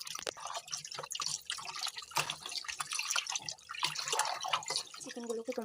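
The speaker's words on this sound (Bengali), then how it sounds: "চিকেনগুলোকে ভালো করে ধুয়ে নেবো।" Tap water runs and splashes irregularly as raw chicken pieces are washed in a kitchen. The close, uneven trickling and dripping are partly overlaid by a speaking voice.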